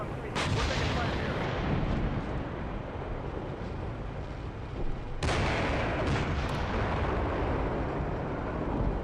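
Gunfire and heavy explosive fire in a military game scenario around a farm, a dense continuous barrage of shots and blasts with a sharp fresh burst midway, loud and sustained throughout.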